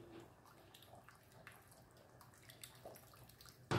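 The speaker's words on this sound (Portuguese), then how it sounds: "Vou meter a água nos lados e eu não vou virando para evitar espalhando o peixe" Water poured into the sides of a pan of cooking fish gives soft, continuous trickling and splashing with faint drips, fairly quiet and close, ending in a sudden louder clatter.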